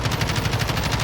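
Rapid automatic gunfire from a video game gun shot at a wall, a loud, even stream of shots repeating several times per second without pause.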